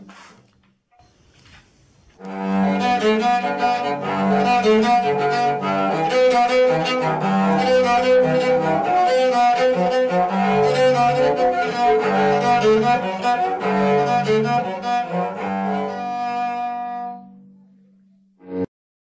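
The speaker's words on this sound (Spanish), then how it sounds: "Este chelo está hecho de una lata de aceite, la madera tirada en la basura y las clavijas son de una vieja cuchara" A homemade cello built from an oil can, discarded scrap wood and tuning pegs made from an old meat-tenderizing and gnocchi spoon plays a sustained bowed melody for about fifteen seconds, loud and close with rich harmonic tone and no talking.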